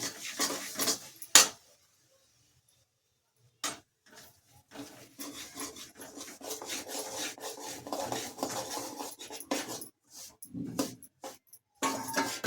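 A spoon scrapes and rasps against a pan as semolina (rava) is added and stirred into a fried tempering, with close gritty scratching, a sharp clink, a short silent gap, then steady stirring.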